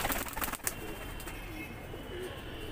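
Deobandi pigeons cooing softly in a loft, low and faint after a short burst of movement at the start, with no talking.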